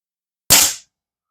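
A single sharp crack from a Diana Chaser air rifle with a bottle conversion, rifle barrel and stock, heard alone as one loud, close report that decays within a fraction of a second.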